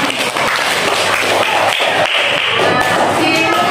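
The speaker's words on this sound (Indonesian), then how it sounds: "Tepuk tangan." Pupils in a classroom clap their hands for a classmate, a loud, dense burst of clapping and thumps with some voices mixed in.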